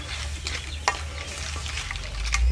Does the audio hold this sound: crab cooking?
yes